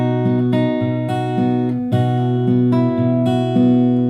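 Acoustic guitar fingerpicking pattern from a song, pinching three strings together in a steady repeating figure of plucked notes, close and clear with no talking.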